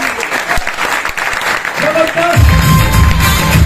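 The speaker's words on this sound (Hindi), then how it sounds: "तो सर के लिए एक बार फिर ताली बजाओ" An audience at a business seminar breaks into loud, sustained applause and cheering, rising to a full roar partway through, with talk over the clapping.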